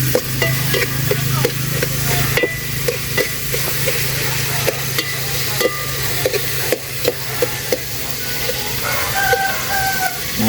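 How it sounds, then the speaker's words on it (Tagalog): Tomatoes sautéing in a pan, a soft continuous sizzle broken by sharp scraping and stirring clicks, with a rooster crowing in the background. "yung sarap ng kamatis pag ginigisa"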